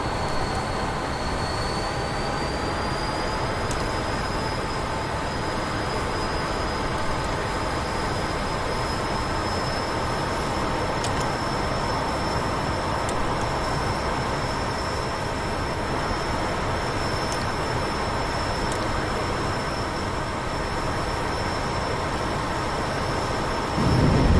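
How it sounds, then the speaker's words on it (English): A jet engine roar from an F-14B Tomcat in DCS World moving into afterburner, a steady loud broadband rush with a sustained high whine, heard alone for the whole stretch. "tiniest little movement in throttle takes you into reheat"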